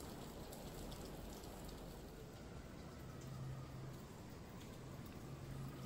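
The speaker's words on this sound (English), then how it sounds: "You can actually hear the rain pretty well" Rain falls steadily outside, a soft, even hiss of drops that stays constant at low volume throughout, with no voices.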